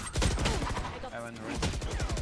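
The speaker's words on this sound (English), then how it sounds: "Shotgun." Rapid shotgun blasts in Valorant, several sharp bursts in quick succession with loud close impacts, a player's voice briefly audible amid the firing.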